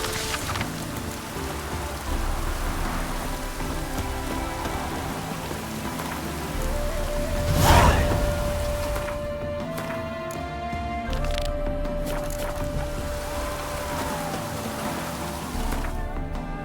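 Steady rain pours across the ground in The Witcher 3, a dense continuous hiss with a brief louder swell midway and faint tonal game ambience beneath.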